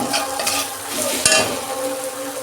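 Ground spices (turmeric, cumin, coriander, pepper) sizzle and fry in a pan while being stirred, a steady close crackle with a brief scrape or knock of the spoon midway.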